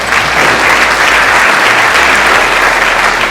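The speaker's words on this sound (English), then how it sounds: "give those guys a round of applause" A keynote audience bursts into loud, continuous applause for a pair of business partners, a thick wash of many hands clapping close and steady with no voices.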